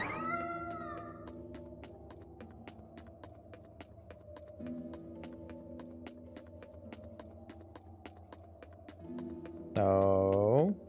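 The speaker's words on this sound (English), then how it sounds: "Found a cat!" A cat meows in the video game Tales of Berseria: one short, bright meow near the end over quiet looping game music with regular ticking beats.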